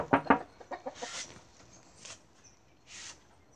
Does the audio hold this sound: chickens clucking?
yes